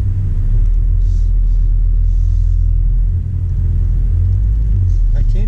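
Deep cabin rumble from a 2018 Ford Focus ST with a Mountune exhaust fills the space while driving, a steady low drone with someone talking over it.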